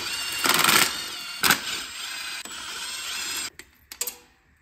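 Ratchet wrench working loose the fuel rail bolts on an engine during a fuel injector swap, a close, bright mechanical clicking in several bursts with pauses, ending in a few sharp isolated clicks, no talk.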